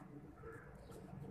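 Soft, low pigeon coos murmur faintly over a muffled background, brief and indistinct.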